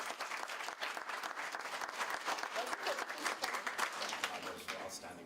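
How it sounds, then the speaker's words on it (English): An audience at a creative economy event in Zimbabwe applauds a poet with steady, dense clapping that sounds fairly distant and fills the whole stretch, with faint voices mixed in. "I think he deserves a big round of applause"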